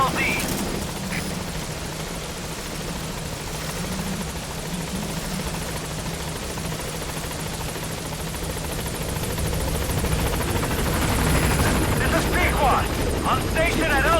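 A helicopter in Metal Gear Solid V: The Phantom Pain arrives at a landing zone, its steady rotor drone loud and continuous throughout, growing slightly stronger toward the end.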